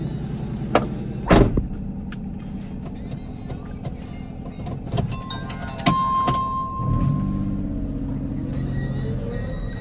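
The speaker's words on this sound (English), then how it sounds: "moment of truth, time for that test drive." Honda Acty mini truck fitted with stiff Eibach springs driving slowly around a property, a steady close engine hum inside the cab with a few bumps, creaks and rattles over uneven ground and no talk.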